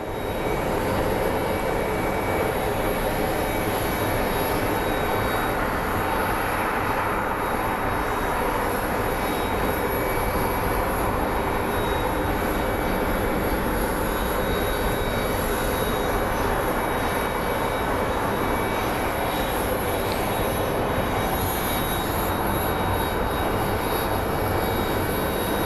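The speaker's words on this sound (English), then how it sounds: "And that is our FedEx 777 coming in." A FedEx Boeing 777 airliner coming in to land at Phoenix Sky Harbor International Airport, a loud sustained jet engine roar with a broad rushing hiss and steady whine, close and unbroken throughout.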